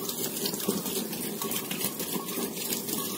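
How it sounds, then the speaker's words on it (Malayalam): Plain water is poured onto a blazing fire of mixed petrol and diesel, giving a continuous rushing, splashing wash of sound at close range with no pauses. "വെറും പച്ചവെള്ളം ഒഴിക്കുന്നുണ്ടോ."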